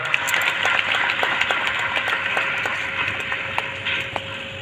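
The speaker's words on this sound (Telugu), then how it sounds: "నమ్మిన వాళ్ళు గట్టిగా చప్పట్లు కొడతారా?" A congregation at a church prayer gathering claps together after prayer, a dense, steady wash of many hands with sharper individual claps standing out, continuing for several seconds without voices.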